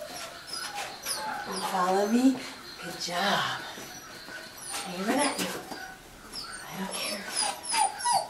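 A German Shepherd whimpers and gives short high yips in several bursts, close by, with a person talking over and between the dog's sounds.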